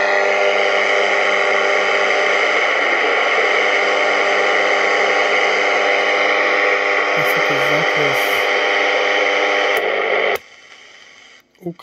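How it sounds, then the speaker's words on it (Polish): Steady broadband static hiss from a Unitra Eltra Liza R-203 portable radio tuned to an empty FM band, loud and continuous, with faint handling clicks before it cuts off near the end. "UKF jest sam szum."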